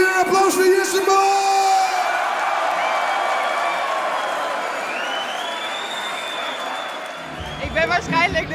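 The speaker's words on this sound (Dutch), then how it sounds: "Dames en heren, een applaus" A festival crowd at a summer builders' party cheers, yells and claps loudly for several seconds, with whoops and shouts over sustained applause and a voice heard near the start and end.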